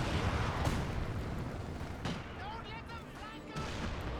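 A Panzerwerfer rocket artillery barrage in Company of Heroes 2, several loud booming launches and blasts spaced across the stretch, with whistling projectile sounds between them and speech running under the din.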